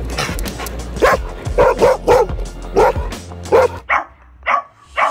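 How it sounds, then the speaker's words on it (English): Several dogs bark excitedly at a low-flying FPV drone, a rapid series of loud, close barks and yips, with a steady motor buzz underneath in the first part. "Dogs just go insane when they see FPV drones"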